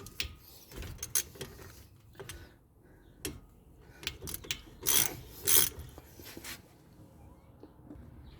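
A ratchet loosening brake caliper bolts on a 2011-2017 Toyota Sienna, with sparse, quiet clicking strokes and a few louder metallic knocks near the middle, close by.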